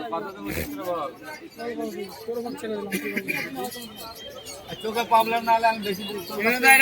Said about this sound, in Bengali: এক জোড়া ওমান টেডি পায়রা এসছে আজকে বিন্নগর হাটে